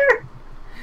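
A human voice briefly imitates a cat's meow for a catfolk character in a tabletop roleplaying session, one short, bright mew at the start that quickly fades into quiet room noise.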